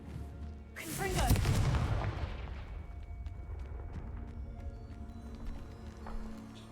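In Hogwarts Legacy, the Confringo fire spell bursts with a loud, booming blast that rumbles and crackles, then fades into a long, hissing decay over several seconds.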